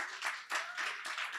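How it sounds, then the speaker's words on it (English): An audience applauds after a talk, steady close clapping from a crowd in a room, sustained across the whole moment without pause. "Sorry to cut the applause short."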